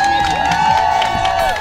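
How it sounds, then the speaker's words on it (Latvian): An outdoor crowd at a birthday picket applauds and cheers, making a loud, steady wash of clapping and whoops that lasts for the whole short moment. "Labi aplausi"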